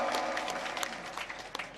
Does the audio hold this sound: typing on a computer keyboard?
no